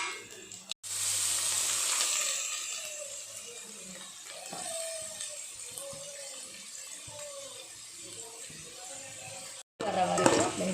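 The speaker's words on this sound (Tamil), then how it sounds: "வெங்காயத்தை நல்லா வதக்கிடணும்" Onions sauté in hot oil with cardamom, cinnamon and fennel in a pan, giving a steady, moderate sizzle that runs continuously under a person talking.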